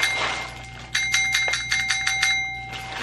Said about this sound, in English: She doesn't know how to work the bell.